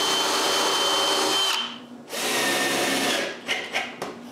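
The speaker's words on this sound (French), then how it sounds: "puis visser en place." A power drill drives screws through a strip of plywood added under a woodworking assembly on a sharpening station build, whining loudly for about a second and a half, pausing, then running again before a few short bursts at the end.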